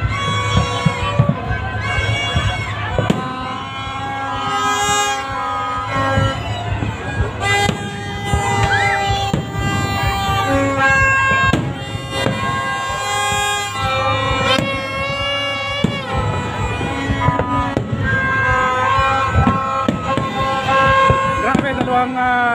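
Fireworks burst at the Mall of Asia New Year countdown amid a large noisy crowd, with horns, sirens and cheering over the pops and booms, and someone talking throughout.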